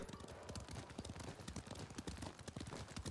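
Horse hooves clip-clop in a steady, fast rhythmic gallop while riding in a video game, continuous and close throughout with no talk.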